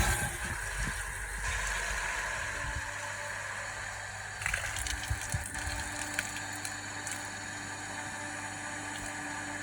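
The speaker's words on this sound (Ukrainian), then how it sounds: "Насос міняє звук." A steady mechanical hum from a water pump drawing water from a well, with a low drone and intermittent clicking rattles, running continuously nearby.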